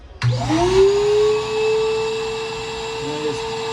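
A loud record cleaning machine vacuum motor whirs up abruptly and holds a steady, high whine, dipping slightly near the end.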